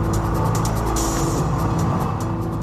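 Ayrton Senna's Williams Formula 1 car at full throttle, a loud, dense engine roar holding steady at close range, thick with harmonics and unbroken from start to finish.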